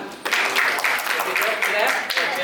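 An audience at a negotiation-skills training session in Kota Kinabalu claps for the named winners, a dense, steady burst of many hands applauding close by for a couple of seconds.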